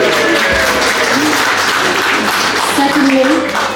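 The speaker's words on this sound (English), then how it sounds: "some whooping and cheering for the fantastic staff team" Theatre audience at an arts centre birthday celebration applauding, whooping and cheering for the staff team, loud sustained clapping with high shouts rising over it, building toward the end.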